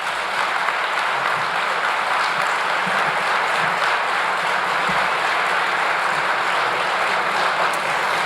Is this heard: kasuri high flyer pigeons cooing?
no